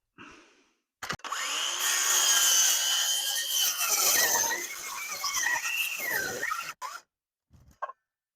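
A power saw grinds through wood on the roof of a burnt house for about six seconds, its pitch wavering as the cut bogs down, then stops abruptly with a couple of clunks.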